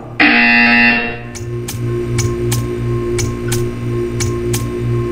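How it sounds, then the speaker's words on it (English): A buzzer sounds in the Portal 2 video game, a loud harsh burst lasting about a second, followed by a steady rhythmic ticking and low hum. "You will hear a buzzer."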